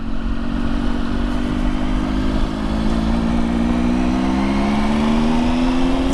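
A Triumph 955i motorcycle engine runs steadily while being ridden on a gravel-strewn road, a loud, continuous drone with a slowly rising pitch and no talking.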